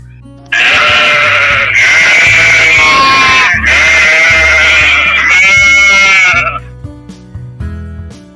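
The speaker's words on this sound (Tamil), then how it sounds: "செம்மறி ஆடு," A sheep bleats loudly and close up in three long, wavering cries that run almost back to back, then trail off into quieter background noise.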